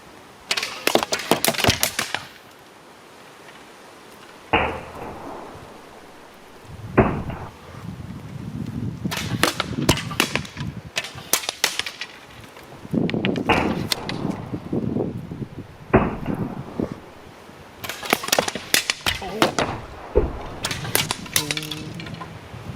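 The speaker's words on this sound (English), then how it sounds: "They're all going to shoot at the same time as they really would in battle" Arrows from a volley of archers strike armour in repeated clusters of sharp metallic clanks and knocks, some ringing briefly, separated by short pauses and low rustling movement.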